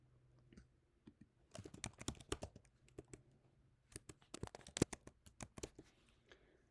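Typing on a computer keyboard, a faint, irregular patter of key clicks coming in quick clusters with brief pauses, close and quiet with no talk.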